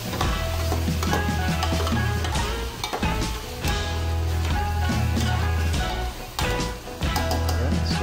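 Marinated puso stirred and fried in a pan, a steady loud sizzle with repeated scraping stir strokes throughout, no talking.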